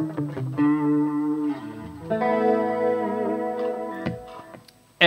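Electric guitar through a Mooer GE 300 on a flex boost distortion setting, a few sustained chords and single notes ringing with chorus-like shimmer, then a brief pause and a sharp pick attack at the very end.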